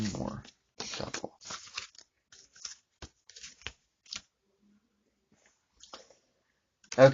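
Tarot cards being shuffled by hand, a run of short crisp riffles and soft card slaps in separate bursts with quiet gaps between, ending with a louder thump.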